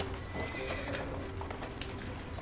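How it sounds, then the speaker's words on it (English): Horse neighing and galloping hooves in Assassin's Creed Syndicate, a steady clip-clop under a whinny, loud and continuous with dense game ambience throughout. "I'm whipping the shit out of this horse."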